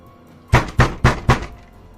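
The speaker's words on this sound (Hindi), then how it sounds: "किसी ने हमारे कमरे का दरवाज़ा बहुत ज़ोर से पीटा" Someone pounds hard on a room door at night, four heavy knocks in an even rhythm, loud and close, with no voices.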